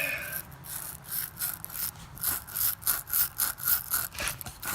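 A brush scrubs corrosion off a car battery terminal in quick, rhythmic back-and-forth strokes, a close, bristly scratching that runs steadily throughout.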